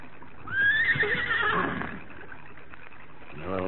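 A horse gives a loud, rising whinny up close that trails off into a shaky neigh, followed by a few faint hoof clops.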